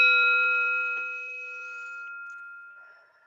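A single bell is struck once and rings out clear and bright, its tone lingering and slowly fading over a few quiet seconds.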